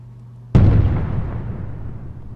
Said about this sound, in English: That was the largest bomb the game has to offer.